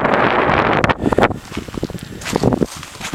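Gusty wind reaching about 10 metres per second blows over the village of Novoekonomicheskoe in February, buffeting the microphone in loud roaring surges that ease and return over a few seconds.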